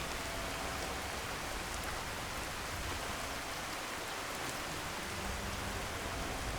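Steady rain falls outdoors in the video game Skyrim, a dense, even hiss with no break or change throughout.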